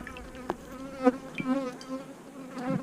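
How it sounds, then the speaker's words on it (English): Agitated honey bees buzzing around an open hive in November, a layered drone with wavering pitches and several close passes sweeping loudly by the listener. "Let's get away from this testy bees here."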